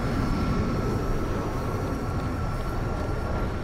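A jet engine's exhaust roaring in the video game Crysis, a dense, steady broadband rush with a faint whine on top, loud and continuous without a break.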